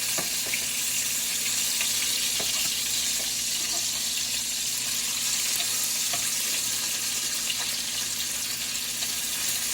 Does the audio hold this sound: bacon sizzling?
yes